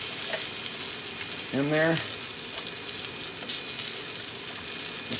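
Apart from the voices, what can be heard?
beef stock added to browned beef in hot pan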